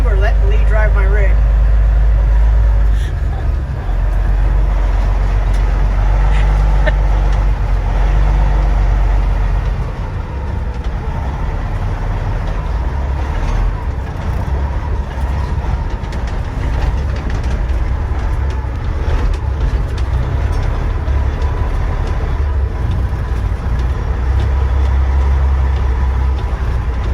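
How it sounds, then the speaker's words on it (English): A big fire engine rig rumbles along on the road, its heavy engine drone loud and constant from inside the cab, with people talking over the noise throughout. "Lee's driving my big rig."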